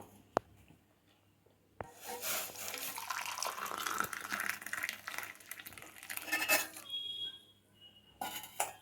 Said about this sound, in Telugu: ఇప్పుడు మనం ఈ బెల్లంలోకి ఈ నీళ్ళని వడిగట్టుకుందాం